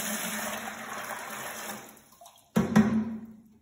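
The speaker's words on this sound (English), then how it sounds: "First, you're gonna pour your 12 cups of water into your bucket." Water pours and splashes into a bucket, a steady running wash that thins out and then comes back with a louder, nearer gush of water.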